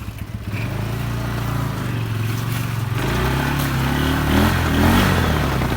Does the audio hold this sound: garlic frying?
no